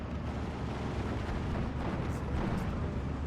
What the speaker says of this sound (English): ammo explosion shot on the first APCR